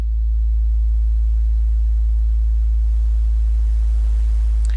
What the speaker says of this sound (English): the random fluctuations are modulating my oscillator's frequency